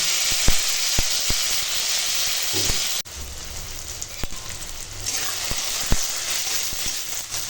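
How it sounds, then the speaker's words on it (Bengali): Spices fry in hot oil as a tempering for lentil dal, a loud steam-like hiss broken by sharp pops and crackles, dropping briefly before the sizzle resumes. "এখন ফোড়ন ভাজা হয়ে গেছে"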